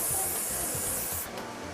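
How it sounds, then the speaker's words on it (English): Hairspray hisses in a steady aerosol burst over teased bridal hair, close and continuous for more than a second before easing off slightly near the end, with no talk. "You fix it with a little hairspray just to help it stay together."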